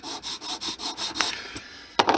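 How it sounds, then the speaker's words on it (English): Sandpaper rubbed back and forth over the ends of HO-scale model building walls, a steady run of rasping strokes with one louder scrape near the end, close and alone. "I need to just clean up the ends with some sandpaper"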